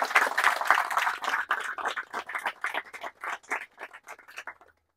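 Applause from an audience at a fertility treatment talk, a burst of fairly close clapping that gradually thins into scattered claps and fades out.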